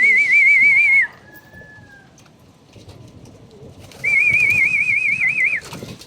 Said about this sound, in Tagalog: Ito guys, ang mga ibon natin.